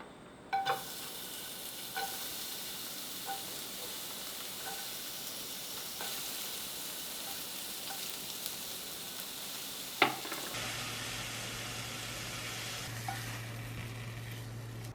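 Thinly sliced burdock for japchae stir-fries in a pan with a soft, steady sizzle and a few faint clicks of stirring, fairly quiet and continuous with no voices.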